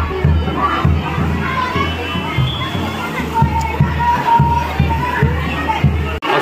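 A large crowd of devotees fills a temple, a steady murmur of many voices broken by repeated dull thumps, with nearby speech mixed in.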